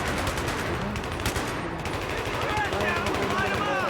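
Rapid automatic gunfire from a video game shooter, dense bursts of shots running throughout while players talk over it.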